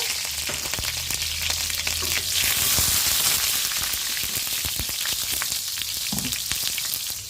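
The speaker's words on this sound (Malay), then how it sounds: "Kita nak tumis dulu bahan ni" Spice paste for chicken soto sizzles and spits in hot shallot oil in a wok, a steady, loud, close frying crackle that runs without pause and with no talking.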